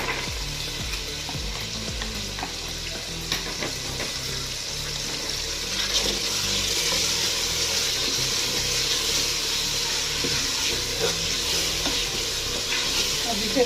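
Potatoes and peas frying with black pepper and spices in a pan, a steady sizzle broken by repeated scraping stirs and clinks throughout, growing slightly louder midway.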